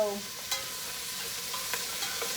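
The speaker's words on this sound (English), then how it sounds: "add the chopped zucchini or summer squash and cook on medium-high heat, stirring occasionally" Chopped zucchini sautés on medium-high heat, giving a soft continuous sizzle with a few clicks and scrapes from stirring, close and moderately quiet, with no voices.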